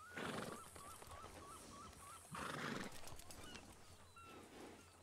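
A horse in a western ranch roleplay video game neighs loudly and clearly, a wavering whinny followed by a second snort-like call, alongside faint hoof and ambient game sounds.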